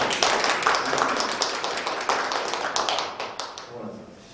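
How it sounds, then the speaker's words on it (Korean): Audience applause at an academic session on gentrification and fear of crime, fairly close and sustained, with dense overlapping claps that thin out and fade toward the end. "박수 한번 쳐주세요"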